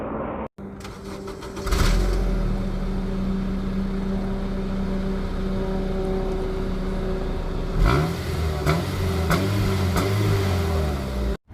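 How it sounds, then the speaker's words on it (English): A 2007 Honda Accord Coupe's four-cylinder engine starts, then idles with a steady exhaust drone, and revs up sharply in short bursts near the end. "let's take a look and see how this exhaust sounds like"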